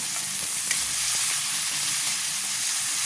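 Ground pork or beef sizzles steadily in a hot pan with sautéed garlic and tomato, a constant close frying hiss with a few faint stirring taps, and no one talking.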